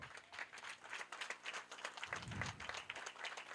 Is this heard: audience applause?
yes